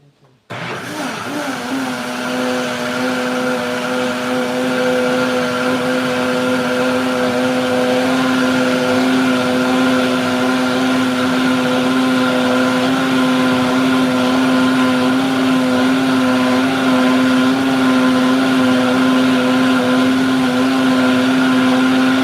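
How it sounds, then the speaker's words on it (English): An electric kitchen blender runs steadily at high speed, blending Nigerian moi moi ingredients; a loud, continuous motor whine with a strong steady hum starts abruptly and holds for the whole stretch, with no talk. "This is my blender."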